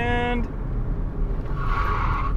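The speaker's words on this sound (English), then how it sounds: "Wow, the brakes work so much better." A late-1990s to early-2000s Toyota Corolla braking after a brake master cylinder replacement, with a tonal squeal that cuts off early, then road rumble and a brief higher squeal of tires or brakes near the end, heard from close range.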